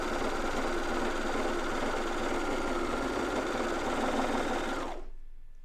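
A coverstitch sewing machine runs steadily at close range while sewing a thick seam on pajama tops, a continuous mechanical whir and rapid needle chatter that cuts off abruptly near the end.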